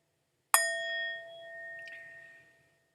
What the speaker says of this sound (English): Following the sound of the bell, my breath brings me back to the safe island of mindfulness